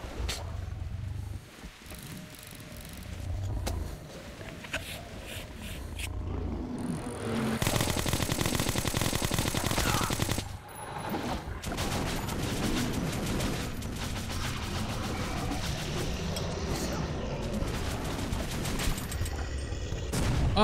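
Sustained gunfire in the shooter game Metro: Last Light, with repeated shots and bursts, a brief lull, then a dense, loud stretch of continuous fire that keeps going to the end.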